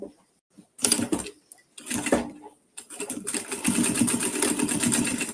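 A sewing machine stitches along a seam in three short bursts that grow longer, with brief pauses between runs, its motor whirring loudly and close by with no talking.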